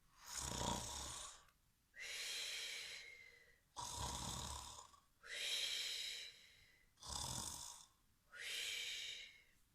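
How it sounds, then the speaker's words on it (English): Loud, slow snoring close by, each rasping breath drawn out over a second or two with brief pauses between, repeating steadily. "fell asleep, and began to snore very loudly"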